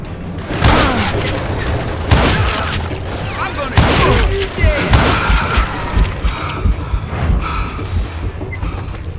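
Gunfire in the Call of Juarez Gunslinger video game: loud repeated shots and booming blasts in irregular bursts, with crashes and impacts among them.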